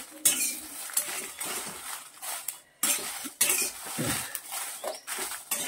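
A metal spoon scrapes and clinks against a pan while bedki chillies are dry roasted for Marathwada-style kala masala, in close, irregular bursts of scraping and stirring with brief pauses between them.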